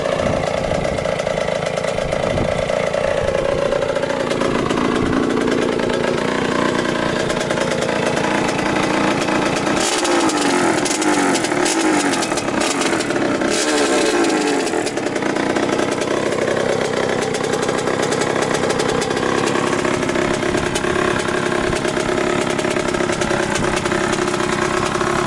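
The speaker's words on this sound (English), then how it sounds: "Bike is started easy and is running fine." A 1981 Suzuki RM80 dirt bike, a barn find, runs steadily close by with its small two-stroke engine note held throughout and a brief burst of revving partway through.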